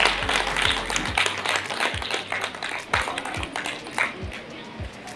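Audience clapping at a school award ceremony honouring 10th and 12th grade students, steady applause filling the room with a few sharper individual claps standing out throughout.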